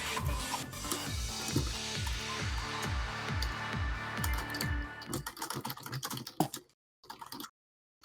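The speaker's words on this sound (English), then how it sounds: "What you typing there, Masky?" Fast, rhythmic keystrokes on a computer keyboard come through at moderate volume, then thin out into a few scattered taps before stopping, with no talking.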